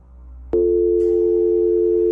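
Telephone call tone in an animated horror film: a single loud, steady electronic tone that starts abruptly, holds for about a second and a half, then cuts off sharply, with no voices.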